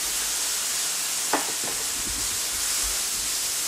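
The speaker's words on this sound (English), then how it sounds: "Start to add the veggie on the pan with the sauce over here" Onions and other vegetables stir-fry in a pan with sauce for chicken chow mein, a loud, steady hiss of sizzling with a brief scrape or two partway through.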